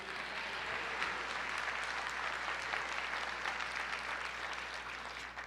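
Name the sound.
congregation applauding in church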